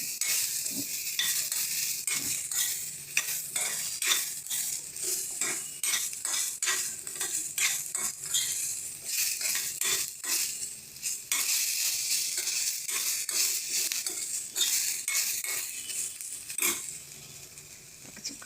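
Sesame seeds roasting in a dry pan give off a steady, close crackle and sizzle, with frequent sharp ticks and light scraping as they are stirred over nearly twenty seconds, no voices.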